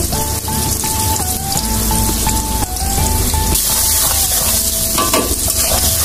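Onions frying in oil in a pan for a Bengali hilsa fish and eggplant curry, a steady close sizzle with stirring scrapes and crackles throughout.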